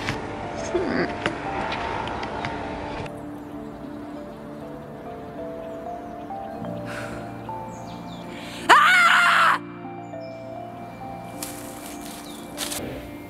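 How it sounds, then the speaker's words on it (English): A single loud barbarian yawp, a short, raw yell, bursts out for under a second against a quiet room background with faint rustles. "a yawp is a loud cry or yell"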